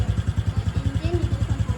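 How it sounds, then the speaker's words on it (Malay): A vehicle engine idles steadily after being started during a pre-drive check, with a regular pulsing throb close by and people talking over it. "Menghidupkan enjin sekarang menghidupkan enjin."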